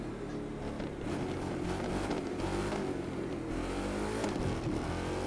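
A rallycross Ford Mustang engine in The Crew 2 video game drones steadily at a constant, fairly loud level, with a rough, throaty engine roar throughout.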